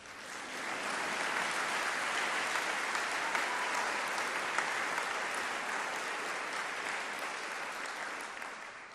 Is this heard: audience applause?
yes